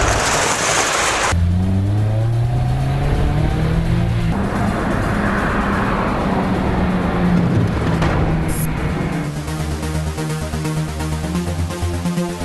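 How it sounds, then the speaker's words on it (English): A Honda S2000 sports car engine revs hard and pulls away, rising and shifting through gears, loud and close, then settles into a steady engine drone. "I'm going to send Eli out a test drive"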